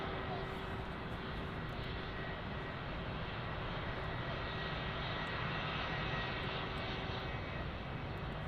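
A Lufthansa Airbus A321 jet taxis out toward runway 08 left at Munich Airport, its engines a constant broad roar heard from a distance, steady and unbroken throughout.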